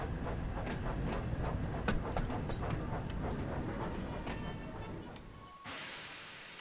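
A train running in the Thomas & Friends: Wonders video game, with a steady rumble and rhythmic clicking wheels, loud and continuous, before it cuts to a quieter hollow tone near the end.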